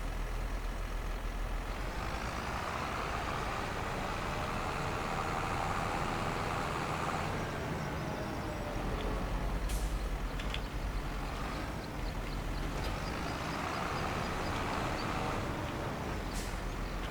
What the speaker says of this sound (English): Lovely little John Deere tractor.